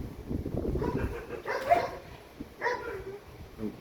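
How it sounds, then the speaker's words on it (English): A dog barks excitedly in a few bursts, fairly close and loud, with a person speaking over it. "Oh, dog's going crazy."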